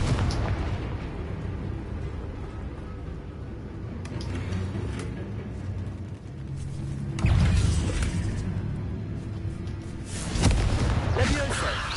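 Confringo spell blasts in Hogwarts Legacy go off as loud, rumbling explosive bursts within a dense, noisy game soundscape, with two heavier booms standing out and speech mixed in.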